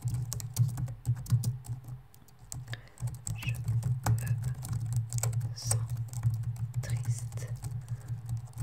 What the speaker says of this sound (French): Je vais l'écrire sur mon ordi